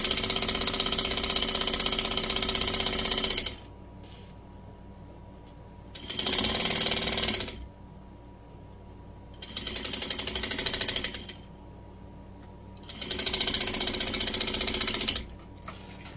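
A sewing machine stitching a pillow runs in four loud, rapid mechanical bursts of a few seconds each, separated by quiet pauses, with no talking.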